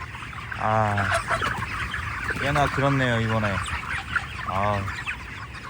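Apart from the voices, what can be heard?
chickens clucking in a poultry farm house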